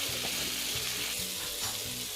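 Pizza dough slices re-frying in a pan, a steady close sizzle of hot oil with small crackles, continuous and alone without any voices.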